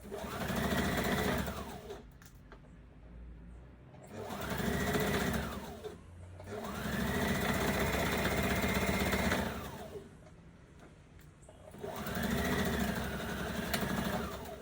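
A sewing machine stitching a skirt runs in four bursts of rapid, whirring needle chatter, each lasting a couple of seconds, with brief quiet pauses between runs as the fabric is repositioned.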